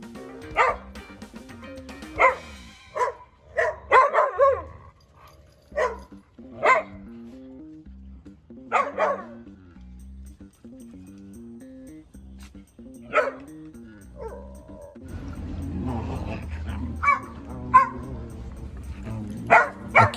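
Whippet dogs barking repeatedly to get attention, with male dogs directing sharp, irregular barks and yips at a female in the pack. The barks are near and loud, separated by short pauses, and a denser burst of barking comes near the end.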